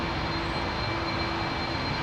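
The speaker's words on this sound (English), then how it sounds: "That's about as much turning as that Emirates 380 is going to do." An Emirates A380 airliner taxis at London Heathrow Airport, giving a steady, broad engine roar with a faint high whine held at an even level throughout.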